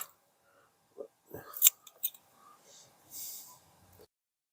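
Fresh ginger being cut, with a few close, sharp snips and crisp cutting sounds spread over several seconds, mixed with faint handling noise and soft whispery sounds.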